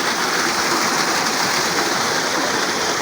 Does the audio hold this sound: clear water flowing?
yes